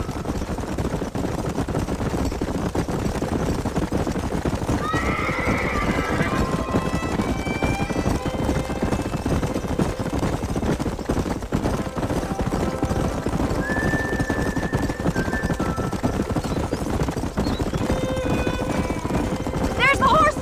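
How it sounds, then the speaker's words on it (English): Horses in the Red Dead Redemption video game, with hooves clip-clopping steadily and several whinnies and neighs rising over the bed of hoofbeats, while people talk now and then. "There's the horses!"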